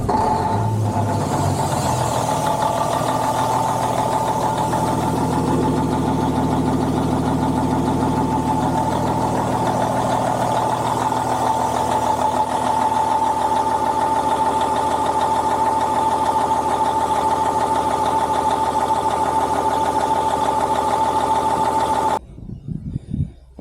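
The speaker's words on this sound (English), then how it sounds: "So up here, start the engine." A Cummins N14 diesel in a Ford CL9000 truck idles steadily with a continuous rough rumble and mechanical chatter, loud and close throughout, with its air compressor inlet removed, ending with a few clunks.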